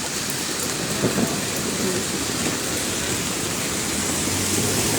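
Heavy rain pours steadily near a tent camp in Tekerek, Kahramanmaraş, with low thunder rumbling beneath the constant hiss of the downpour.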